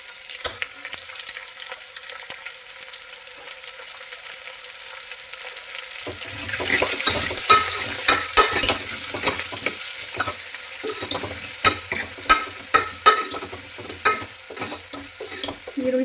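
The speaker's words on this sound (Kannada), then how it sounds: "ಈರುಳ್ಳಿ ಸ್ವಲ್ಪ ಫ್ರೈ ಆಗಲಿ" Onions fry and sizzle in a pan for a sprouted horse gram sambar, the hiss bursting in loudly partway through after a quieter start, with stirring clatter and scraping rising above the steady crackle.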